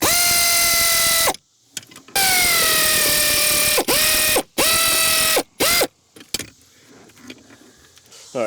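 A ratchet working 13mm bolts off the brake booster of a Jeep WJ, heard up close in several long, loud whirring runs separated by short pauses, followed by quieter clicks and handling noise.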